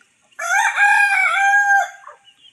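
One long, loud rooster crow rings out close by, held steady for over a second before trailing off into quiet.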